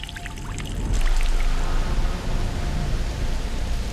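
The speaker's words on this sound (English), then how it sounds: "It's pouring the rain, and we're gonna get soaked" Heavy rain pours down outdoors on a September bow hunting trip for deer in Maryland, a steady dense hiss of close, loud downpour filling the air with no talking.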